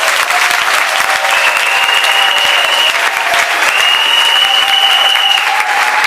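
A church congregation at a pastor's service breaks into loud, sustained applause that fills the room evenly, a dense wash of clapping with no pauses.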